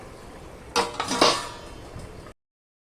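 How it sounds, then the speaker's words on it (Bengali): Metal lid set onto a wok of simmering fish-head and taro curry, a sharp clattering clank followed by a brief rattle as it settles, over a quiet background hiss. "এবার আমি কড়াইটা ঢেকে দেব।"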